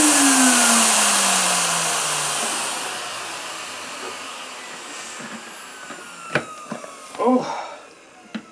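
An ETA Dynamix cylinder vacuum cleaner runs loudly, then its motor winds down with a falling whine over a few seconds before a person speaks briefly over the quieter background.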